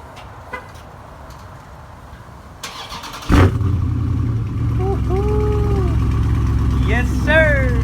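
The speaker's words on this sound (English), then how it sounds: "Let's give it a little start." A 2020 Dodge Charger 392 Scat Pack, already warm, cranks and fires with a loud burst at about three seconds, then settles into a steady deep idle, with faint speech and a few higher tones over it.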